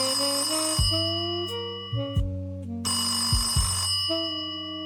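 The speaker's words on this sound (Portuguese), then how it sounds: "O telefone fixo de disco sob a escrivaninha berrou" A rotary landline telephone under a desk rings in a shrill, repeating electronic-sounding bell pattern, with short pauses between bursts, loud and close in a quiet office at night.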